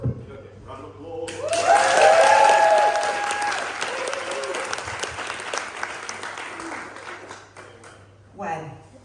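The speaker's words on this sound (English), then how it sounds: "Round of applause." A live audience at a PechaKucha-style talk breaks into a loud round of applause that swells quickly, holds for several seconds and slowly tapers off, with voices briefly heard near the end.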